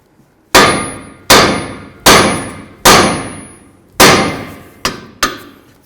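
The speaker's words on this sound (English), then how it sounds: "Now I'm going to use my hammer, and I'm going to give the knuckle a couple bonks." Seven sharp metallic hammer blows ring out on a Jeep Liberty steering knuckle during front axle work, each strike clanging loudly then decaying, spaced about a second apart with the last two closer together.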